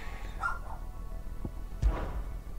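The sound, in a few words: dog barking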